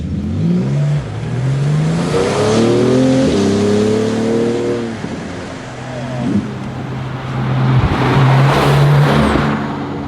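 A 2018 Porsche 911 GT2 RS engine revs hard and climbs through rising, sweeping tones as the car accelerates. It eases off briefly near the middle, then pulls strongly again, loud and close.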